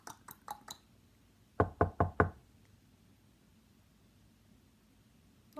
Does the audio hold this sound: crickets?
no